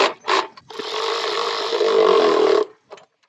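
A drill bores a hole through flat steel stock in a small engine workshop. A couple of brief starts are followed by about two seconds of steady, close, grinding whine as the bit cuts, then it stops with a short tap.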